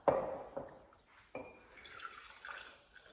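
Elderflower cordial and sparkling water poured into a glass on a hot day outdoors, a few soft splashy drips and liquid trickles at close range, with faint fizzing toward the end.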